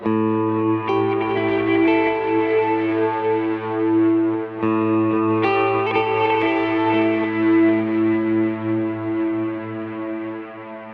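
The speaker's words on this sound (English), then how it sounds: "this is the sound with a crystal delay in the beginning" Electric guitar played through a Kemper Profiler with a crystal delay and cirrus reverb, giving a nearly clean tone with shimmering, distorted repeats; sustained chords ring out loud and continuous, with a fresh strum midway.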